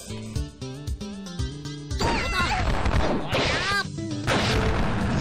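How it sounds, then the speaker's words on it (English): A double explosion in the fighting game Tomoyo Fighter Perfect: after a run of music-like tones, heavy crashing blasts burst out one after another with whooshing effects, loud and busy from the game's own audio. "Double explosion."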